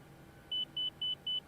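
A cockpit warning in an Airbus A319 in X-Plane 11 during landing sounds as four evenly spaced short high electronic beeps over a low, quiet cabin hum, with no one talking.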